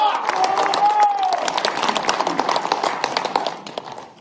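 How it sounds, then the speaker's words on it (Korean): Crowd clapping at a citizens' rally, a dense, loud patter of many hands that rolls on for several seconds and thins toward the end, with voices mixed in underneath. "그때 여러분 다 같이 참석하고 박수 칩시다."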